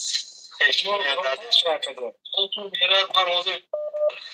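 Touch-tone telephone dialing beeps sound in short bursts, with a clear tone near the end, mixed with someone talking on the phone close by.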